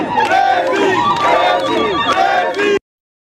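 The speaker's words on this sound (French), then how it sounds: "Zéphirin Diabré a eu droit à un bain de foule à la fin de l'émission" Crowd of party supporters cheering and shouting around the president of the UPC at the end of a broadcast, a dense loud chorus of overlapping yells and whoops that cuts off abruptly.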